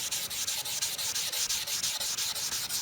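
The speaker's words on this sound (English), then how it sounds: "Since I'm sanding by hand" A car headlight lens is sanded by hand in quick, regular back-and-forth strokes, each pass a close, dry rasping rub repeating steadily with no talking.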